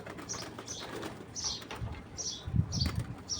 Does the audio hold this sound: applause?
no